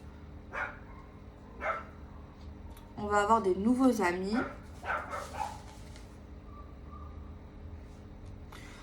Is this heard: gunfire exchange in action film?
no